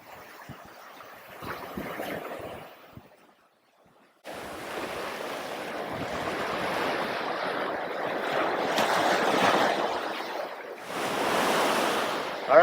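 Ocean surf washes steadily onto an eroding beach at Cape San Blas. The waves rush and roar up close with gusty wind buffeting the microphone, dropping briefly before surging back louder.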